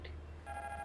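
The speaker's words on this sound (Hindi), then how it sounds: "फोन मत उठाना, ये लड़की का फोन होगा" An electronic telephone rings with steady tonal trills, fairly loud and close, over a low background hum with no talking.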